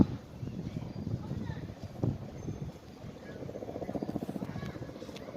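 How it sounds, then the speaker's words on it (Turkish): Helicopters fly over a forest fire burning for a third day near Marmaris, Turkey: a low, steady rotor rumble with wind that swells into a rhythmic thumping toward the end. "Helikopterleri görüyorsunuz."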